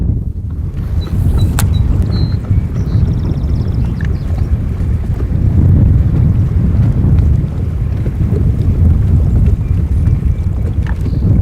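Heavy wind buffets the microphone in a continuous low roar while fishing on the California Delta, with faint water and boat sounds beneath.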